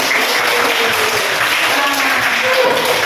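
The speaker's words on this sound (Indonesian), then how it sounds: "Tepuk tangan" A short, loud burst of group clapping breaks out in praise of children who earned top marks, dense and even throughout.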